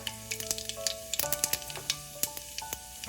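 Half a spoon of cumin seeds sizzles in hot oil in a pot for one-pot dal bhat, producing a close, lively crackle of many small sharp pops over a bed of frying hiss.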